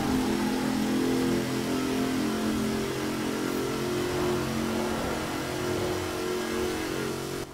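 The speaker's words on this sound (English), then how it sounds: "have a listen to how this thing sounds with its nice V8 in" V8 engine of a 2011 Hot Wheels Bone Shaker hot rod in Forza Horizon 4, driven into a tunnel, holds a steady loud drone at near-constant revs throughout, with no talk.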